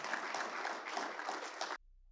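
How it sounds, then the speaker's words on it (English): Attendees at a regional growth and collaboration meeting on an army post applaud, a brief, moderately quiet burst of even clapping that cuts off abruptly. "And that, to me, deserves a round of applause."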